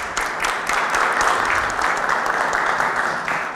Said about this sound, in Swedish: jag tycker de också ska få en applåd när de kommer upp här på scen